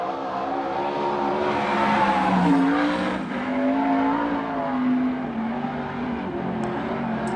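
360 sprint car on a Maxim chassis with a Gertie engine races a qualifying lap at a USAC/CRA sprint car event, a loud sustained engine howl rising and falling as it sweeps around the track.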